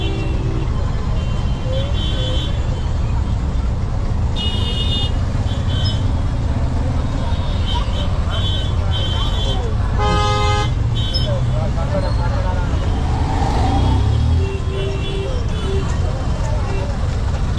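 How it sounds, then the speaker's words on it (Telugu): Heavy city road traffic during a festival crowd, with a steady roar of engines and several car horns honking, one loud burst in the middle; voices are heard over it. "ట్రాఫిక్ అయితే ఫుల్ ఉంది"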